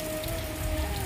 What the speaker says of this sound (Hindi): अब देखो हाँ ओले तो पड़ ही रहे हैं ना ओले, लेकिन अब बंद हो गए, पड़ रहे हैं फिर भी थोड़े थोड़े